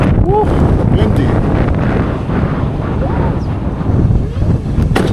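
Strong wind buffets the microphone on the Tonga coast near the blowholes, a loud, constant roaring rumble with gusts, and brief voices and faint chirps appear in the background.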